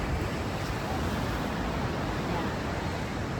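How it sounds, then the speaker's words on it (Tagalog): Strong surf at a beach in Cronulla, Sydney, rolling as a steady, loud, broadband wash of breaking waves with wind across the microphone, continuous throughout. "Look at the waves, guys."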